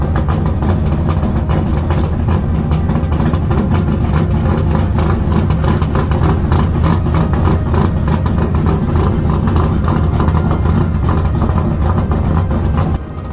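A carbureted car engine with a loud 4-inch straight exhaust idles and rumbles steadily and close, with a deep throaty tone throughout.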